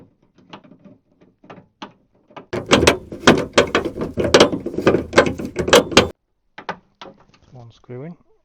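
Screws being driven to fit a chrome door handle on an MG TF sports car, heard as a dense burst of close mechanical whirring and clicking in the middle, with scattered taps and clicks before and after.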